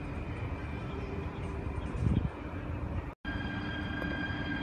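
A train rumbles through Eindhoven Centraal station, a steady mid-distance rolling roar with a brief swell, without clear speech.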